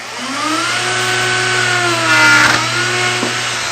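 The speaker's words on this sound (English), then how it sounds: "I'm just going to go ahead and route" A router fitted with a bottom-bearing bit cuts along a fixture, giving a loud, steady motor whine that holds throughout, with its pitch shifting slightly as the bit bites into the wood; no dust vacuum runs alongside.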